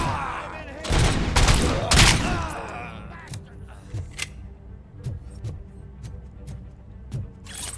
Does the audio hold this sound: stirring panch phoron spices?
no